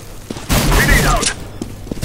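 Grenade blast in a Counter-Strike-style shooter: a loud, close burst with a sustained rumble about a second long, framed by scattered gunshot pops and faint in-game noise before and after.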